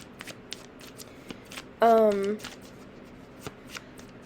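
Tarot cards being shuffled by hand during a reading, soft papery riffles and taps recurring through the clip, with a brief loud voiced burst near the middle.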